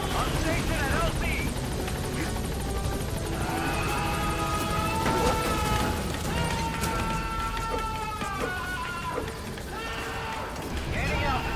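The B-Quad helicopter in Metal Gear Solid V settles at a landing zone, its loud steady rotor thump and engine whine running throughout, with a radio voice speaking over it.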